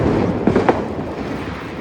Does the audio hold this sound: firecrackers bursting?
yes